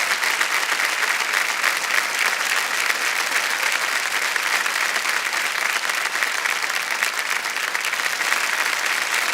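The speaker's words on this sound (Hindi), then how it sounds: "तालियां बजना जोरदार।" The studio audience of Kaun Banega Crorepati bursts into loud, sustained applause, a thick, even roar of clapping that runs unbroken for about nine seconds.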